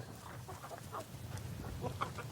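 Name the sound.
chickens and young roosters clucking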